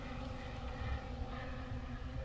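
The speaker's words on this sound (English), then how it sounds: "These are the Ukrainian team's drones returning home" Ukrainian military drones fly overhead on their way home at night, making a steady droning engine buzz that holds at a moderate, fairly distant level throughout.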